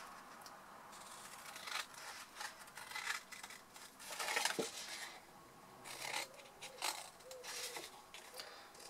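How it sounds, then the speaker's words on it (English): Scissors snipping away the corners of a vellum sheet, a series of quiet, crisp paper cuts in irregular bursts, close and faint with no talking. "So we're going to cut those bits away."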